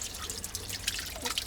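A small pot-shaped water fountain in a local neighbourhood of Tbilisi, Georgia, trickles and drips steadily, a faint continuous babble of water with scattered soft drips and no voices.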